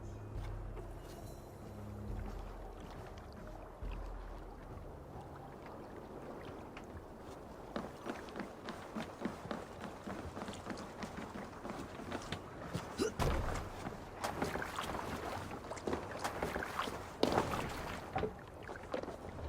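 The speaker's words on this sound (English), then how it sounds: "You must row in these waters." Oars pull a Viking longboat through choppy water in Assassin's Creed Valhalla, steady rhythmic splashes and creaks over a constant wash of waves and wind, growing busier and louder toward the end with no talk.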